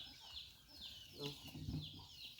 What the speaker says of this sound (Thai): มันไก่